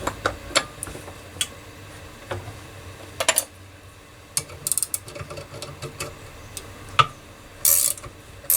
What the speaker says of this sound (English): It's quite a satisfying like clunk as it starts to release.